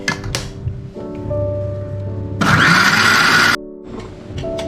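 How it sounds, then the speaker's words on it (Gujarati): An electric kitchen mixer grinds cooled onions and tomatoes with a little water into a paste for Punjabi rajma masala gravy, a loud whirring burst of about a second among quieter kitchen sounds. "હવે ક્રશ કરી લઈએ અને એની પેસ્ટ બનાવી દઈએ"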